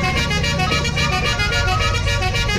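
A Leyland Viking bus horn sounds in Euro Truck Simulator as one loud, steady, brassy honk held for the whole stretch, with the engine rumbling low beneath it.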